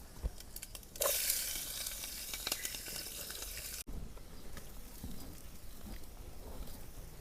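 Baikunthi sizzling as it fries in a small pan at a forest cooking spot in Chitrakoot, a steady close hiss with light stirring clatter, louder after the first second and continuing without talk.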